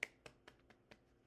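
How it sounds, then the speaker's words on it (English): Five light, evenly spaced hand claps in quick succession during a token-economy teaching session, quiet and close with short silent gaps between each clap. "Clap hands."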